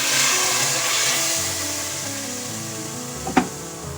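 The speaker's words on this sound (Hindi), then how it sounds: "तैयार किया हुआ तड़का इसमें डाल देंगे" Prepared tempering (tadka) poured into beef nihari, a broad hiss of sizzling oil that fades slowly, ending with a short clatter near the end.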